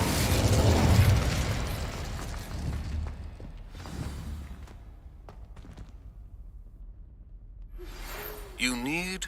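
Casting of the Incendio fire spell in Hogwarts Legacy opens with a loud whooshing burst that dies away into faint crackles and pops, followed by a quiet stretch and a voice at the end.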